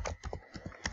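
Computer keyboard typing while a list is copied, a quick run of about a dozen close, clicky keystrokes in an irregular burst with no talk.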